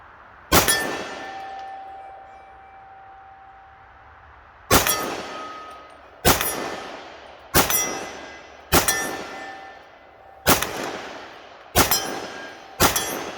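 Seven sharp gunshots from a custom Sig P320 pistol chambered in .357 Sig, fired outdoors with irregular pauses between shots, each a loud crack with a ringing, decaying tail.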